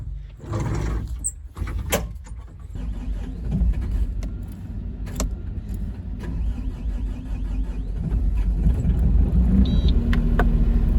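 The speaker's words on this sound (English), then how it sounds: "Let's start the loader up." A loader's diesel engine cranks and catches on a cold morning, then settles into a steady low rumble that grows slightly louder and holds, with a few clanks early on and no talking.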